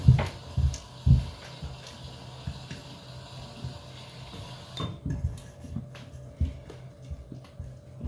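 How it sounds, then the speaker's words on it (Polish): Rye flour sourdough starter for kvass being stirred in a container, with close scraping and wet clinking strokes, a few sharper knocks early on, then quieter irregular stirring. "Dokładnie mieszamy."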